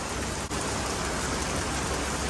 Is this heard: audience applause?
no